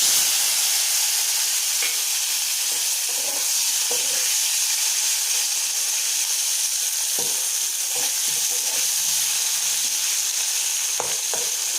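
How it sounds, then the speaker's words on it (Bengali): Potatoes frying in hot oil, a loud continuous sizzle and hiss with occasional pops and crackles, steady throughout with no voices. "এগুলোকেও হালকা লাল হওয়া পর্যন্ত ভাজবো।"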